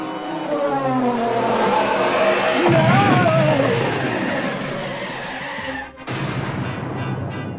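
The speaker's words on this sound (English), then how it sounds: "When we get to the Falcon, I'm gonna have to hit the braking thrusters awfully hard." A spaceship's braking thrusters fire in a Star Wars audio drama: a loud, close screeching whine that sweeps and bends in pitch like skidding tires, fading briefly before a sharp burst resumes.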